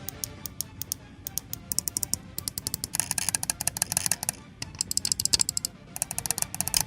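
Buttons on a Razer Wolverine V2 Chroma game controller, with Mecha Tactile switches on the D-pad and ABXY buttons, being pressed: a long run of sharp, crisp clicks, close and loud, sometimes single and sometimes in fast bursts.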